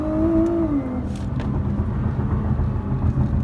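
A COBB-tuned Nissan GTR holds a launch on brake and throttle, its engine droning loud and close with a steady low roar and a rising whine early on, sustained throughout without a break.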